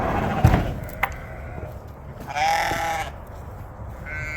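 Sheep in a pasture bleat nearby, one clear drawn-out bleat around the middle preceded by a few short knocks and thumps, with another fainter bleat at the end, moderately loud against quiet outdoor background.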